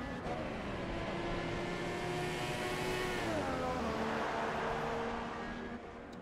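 An F1 video game car engine whines steadily on track, pitch sliding down as the car slows into a corner before climbing again, a continuous high harmonic drone.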